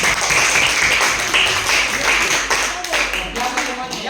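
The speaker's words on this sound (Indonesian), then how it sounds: "kita beri aplaus untuk kelompok 4" A classroom of students applauds a student group at the end of their presentation, steady dense clapping that holds for the whole stretch, fairly loud and close, with faint chatter underneath.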